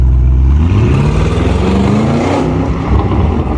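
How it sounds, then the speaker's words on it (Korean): An Audi RSQ8 SUV's V8 engine revs hard with a deep, throaty exhaust rumble. The pitch climbs and falls in loud surges close by. "배기음이 진짜 아주 묵직하고 너무 멋있네요"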